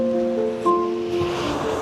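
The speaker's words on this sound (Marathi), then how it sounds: "पाणी बघा किती खवळलाय." Rough sea surf churning against the coast on a road trip near Daman: a steady, fairly loud wash of broadband noise with a faint sustained tonal drone running through it and no speech.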